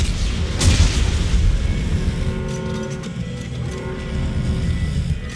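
Explosives detonating in the video game Dead Space 3: a loud, deep boom near the start that rolls into a sustained rumbling roar fading slowly over several seconds, with no talk.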